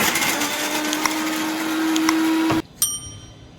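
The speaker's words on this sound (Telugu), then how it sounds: "అల్లమను పచ్చిమిరకాయలు ఇలా ఆడుకోవాలండి" A mixer grinder whirs loudly and steadily as it blends ginger and green chillies, with a sustained motor hum, before switching off abruptly and giving a brief restart burst.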